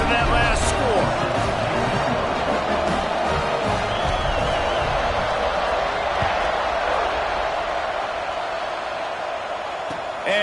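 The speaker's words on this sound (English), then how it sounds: "this crowd is buzzing after that last score" A stadium crowd in a college football video game gives off a loud, steady roar that holds for the whole stretch, with a commentator talking over it.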